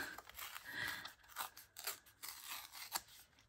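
A paper postcard being torn for scrapbooking: a quiet, close series of short rasping rips and crinkles in uneven bursts over a few seconds, with no talking.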